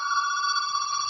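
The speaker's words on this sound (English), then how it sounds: "That's my phone." A telephone rings nearby with a loud, steady electronic tone, heard alone and unbroken for about a second.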